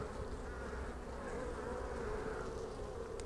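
Honeybees drone in a steady, dense buzz around an opened hive after smoking, continuous and fairly quiet throughout.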